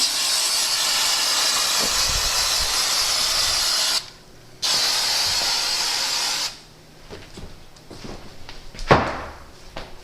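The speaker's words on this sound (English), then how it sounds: "Make sure you spray that inside edge there too" Aerosol adhesive sprayed onto a Victory motorcycle saddlebag liner, a loud close hiss running for about four seconds, a short break, then another long burst before quieter handling noises and a thump.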